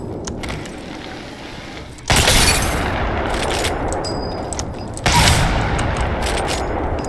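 Gunfire in the Apex Legends video game: loud bursts of shots kick in abruptly twice, each followed by sustained rapid fire and mechanical clatter, with quieter clicks before.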